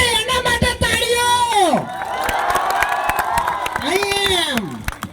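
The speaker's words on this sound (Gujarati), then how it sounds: "એટલે એના માટે તાળીઓ." Audience applause and cheering at a live event, a sustained crowd roar with claps and whoops that continues under a loud talking voice.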